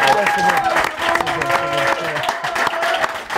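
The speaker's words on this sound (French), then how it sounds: "donc on peut l'applaudir" A football club gathering applauds its coach, a lively burst of clapping and crowd noise with voices and cheering mixed in, close and fairly loud throughout.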